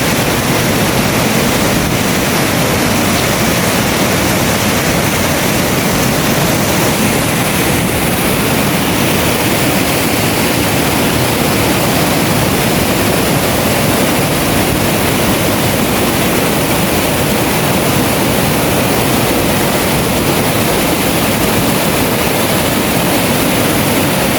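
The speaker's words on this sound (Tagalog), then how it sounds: "Ayan yung BB Falls." BB Falls waterfall running with a strong current, a loud, unbroken rushing roar of water close by, steady and dense for the whole stretch with no voices.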